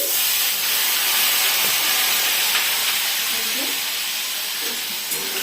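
Cumin, ginger and chili paste frying in a pan for a samosa filling, giving a loud, steady, close hiss and sizzle that runs unbroken through the whole stretch.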